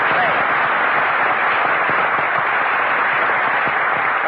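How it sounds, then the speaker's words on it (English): A studio audience on an old radio show breaks into thick, continuous applause, heard close and even throughout with a narrow, muffled broadcast tone. "Jack Benny, applause"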